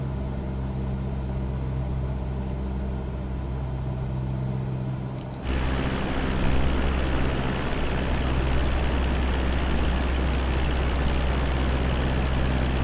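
A Cessna 172 piston engine drones steadily in flight, then grows louder and fuller as the throttle changes partway through, a continuous close cabin hum with no talk.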